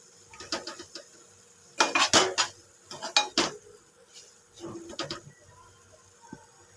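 Metal clatter comes from a cooking pot of potatoes being opened and checked: a series of sharp clinks and scrapes in uneven bursts, close and fairly loud, with no voices.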